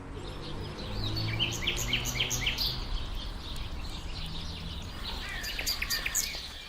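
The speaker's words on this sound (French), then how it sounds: "Les plus talentueux rossignols mâles maîtrisent plus de 200 séquences mélodiques" A male nightingale sings in Berlin, with a steady run of varied chirps, trills and whistled phrases, fairly close and clear over a low, constant urban hum.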